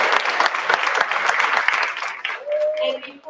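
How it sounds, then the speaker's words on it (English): Applause for student authors at a school district board meeting, a steady crowd of clapping hands for about two seconds that then fades out as a voice begins speaking. "Please join me in a round of applause for all of our amazing authors"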